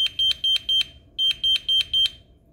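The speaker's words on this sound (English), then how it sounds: "Wait for the beep." A Simon XT alarm panel chirps in two quick runs of beeps, four short high tones each, evenly spaced with a brief pause between runs.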